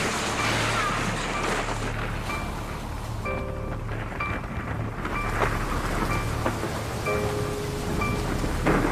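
Heavy hurricane rain and distant rumbling thunder from Category 4 Hurricane Maria striking Puerto Rico, a steady loud downpour with a low roar throughout and a few faint tonal hums over the storm.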